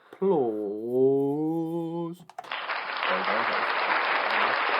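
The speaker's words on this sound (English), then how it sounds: "I'm going to give you an applause." After a long sustained voiced tone, a steady burst of crowd applause plays, evenly loud to the end, to reward a correct answer in a podcast quiz game.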